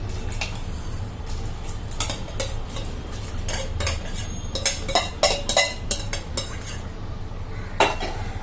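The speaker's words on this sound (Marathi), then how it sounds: "छानसं हलवून घ्यायचं" Sago pearls being stirred into boiling water in a pot, a spoon scraping and clinking against the metal in irregular bursts over a low bubbling rumble, with no voices.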